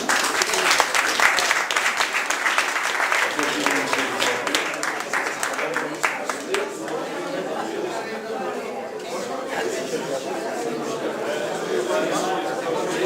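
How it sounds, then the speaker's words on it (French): An audience at a hypnosis show at a magic club in Menton applauds steadily, with dense sustained clapping and crowd chatter mixed in throughout. "Sous les applaudissements, bien entendu."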